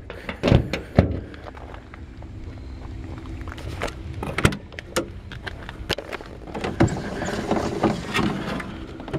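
Hand-cranked windows wind down on a 1972 Volkswagen Beetle convertible, close-up squeaky cranking and scraping bursts with clunks and rattles in between, no talking.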